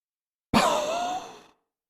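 A single deep breath during a beginners' yoga class, one long, steady airy exhale of about a second that starts abruptly and fades out, close and clear with no talk.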